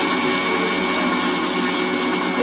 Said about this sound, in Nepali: ग्राइन्डरको ढक्कन लगाएपछि ग्राइन्डरलाई अन गर्छौँ